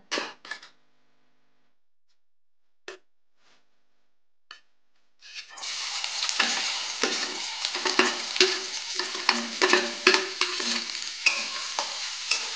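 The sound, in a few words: onion frying in oil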